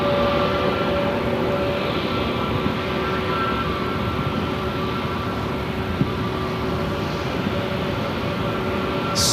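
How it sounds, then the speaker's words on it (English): An airplane arrives on runway 8 at Phoenix Sky Harbor airport, its engines a loud, continuous roar that holds steady throughout with no voices. "We have our next arrival on runway 8 coming up"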